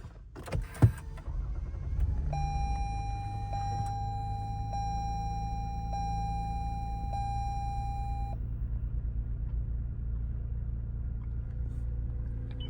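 A 2018 Lexus RX350 V6 starts with a brief crank and settles into a low, steady idle rumble, while a dashboard chime sounds several times over it.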